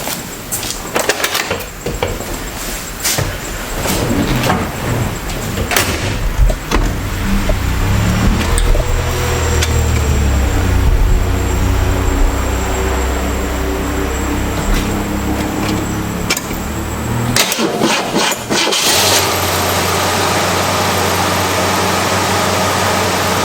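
A 1968 unrestored Mercury Cougar cranks and catches on a cold start, then settles into a loud, rough, steady idle close by. A door-like clunk sounds near the end, and no one speaks.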